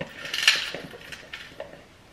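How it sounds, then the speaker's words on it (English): Dishes are being washed at a kitchen sink, with cutlery and pots clinking and clattering close by in quick irregular knocks and rattles that fade toward the end. "what I'm about to do is I need to do the dishes"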